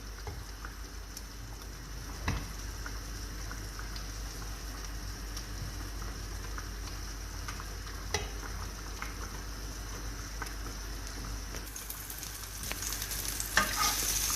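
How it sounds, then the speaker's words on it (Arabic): Minced meat frying in butter in a second pan for lasagne, giving a steady close sizzle with occasional scraping stirs and a louder burst of crackling near the end, no voices. "باش نطيب لا فيوند هاشي تاعي"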